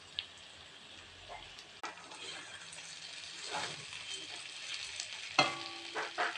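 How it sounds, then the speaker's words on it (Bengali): Shrimp and chikni greens with potatoes frying in a covered pan for a Bengali chorchori: a soft, steady sizzle with scraping stirs, quiet at first, then sharper utensil clatters and taps toward the end, close by and without talk. "উপকরণ নেড়ে নেবো।"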